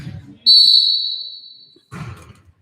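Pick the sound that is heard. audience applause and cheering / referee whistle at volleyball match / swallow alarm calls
referee whistle at volleyball match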